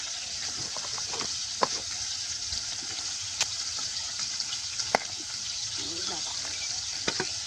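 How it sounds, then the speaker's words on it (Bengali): Pangas fish simmering in a pot in a village kitchen, a steady soft sizzle and bubbling hiss with occasional sharper pops and light stirring clinks. "পাঙাশ মাছ তো ফুটছেই"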